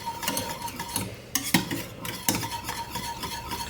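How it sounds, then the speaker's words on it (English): Gravy for poutine, the Quebec dish of fries, being stirred in a pot over low heat, with scraping utensil strokes against the metal and a soft underlying simmer, fairly close and with no voices. "mix it quite regularly. It doesn't have to be continuously."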